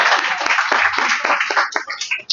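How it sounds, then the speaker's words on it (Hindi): A lively burst of applause from a seated audience at a Hindu scripture lecture, honouring a woman who answered correctly; the clapping comes in uneven waves and thins out toward the end. "जोरदार तालियां माता जी के लिए।"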